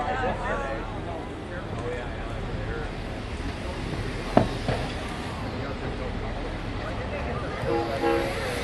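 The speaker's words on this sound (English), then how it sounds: "the Nebraska Zephyr, now pulling into the reviewing area" Nebraska Zephyr passenger train, pulled by locomotive 9911A, rolls into the reviewing area of the 2010 Diesel Days parade, giving a steady close rumble with a brief horn-like tone near the end, while a voice talks over it.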